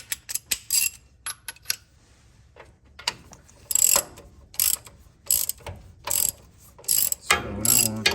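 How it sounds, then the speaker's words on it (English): A hand ratchet clicks in quick bursts while tightening on a 1987 Ford F150 during a wheel and tire job, sharp close metallic ratcheting in irregular spurts separated by short pauses. "Let me get a ratchet."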